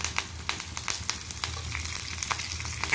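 Curry leaves fry in hot oil while making nalla karam podi, giving a steady close sizzle with scattered crackles and light stirring scrapes.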